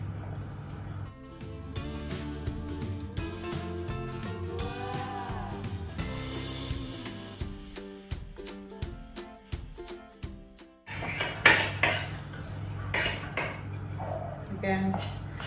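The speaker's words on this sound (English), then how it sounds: "give your mixture a stir with a knife" A knife stirs pastry mixture in a bowl for a lemon meringue pie, giving repeated clinks and scrapes against the bowl, busy and close, with a louder clattering burst near the end and faint music underneath.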